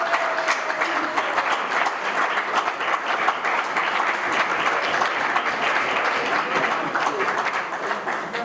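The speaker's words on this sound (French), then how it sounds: "Vous m'avez fait du bien avec vos applaudissements." Sustained applause from a large audience at a lecture, dense steady clapping at close range lasting throughout with no pauses.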